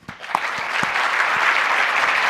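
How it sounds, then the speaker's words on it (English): A conference audience breaks into applause to welcome two speakers onto the stage, a few sharp claps first and then a dense, steady wash of clapping that stays full and even throughout. "We haven't earned those applause yet"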